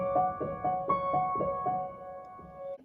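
A piano plays a repeated chord, struck about six times in a steady pulse, then sustains and fades. The playing is close and clear, with no voices.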